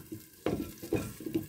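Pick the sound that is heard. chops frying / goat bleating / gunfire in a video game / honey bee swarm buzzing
chops frying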